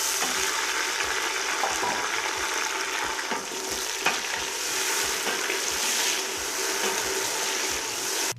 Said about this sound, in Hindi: इसे मैंने 2 मिनट के लिए भूना है